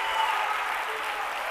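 A church congregation applauds steadily in praise during a sermon, dense clapping filling the room, with some voices mixed in.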